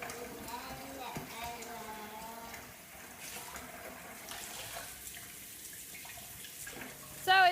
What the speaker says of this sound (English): So here he goes now with the water.